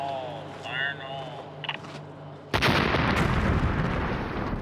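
A loud, close explosion from a demolition charge set off after a countdown, bursting suddenly and sustaining a broad roaring rumble to the end, preceded by quieter voices and tones.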